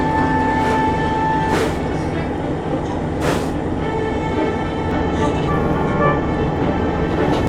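A train rumbles steadily along the rails, with a continuous rolling clatter and a few brief hissing bursts from the cars, a streamliner among them.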